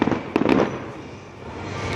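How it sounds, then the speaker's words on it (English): Fireworks burst at a beach with loud, sharp cracks early on, followed by a dense crackling rumble that fades and then lingers steadily. "This is fireworks!"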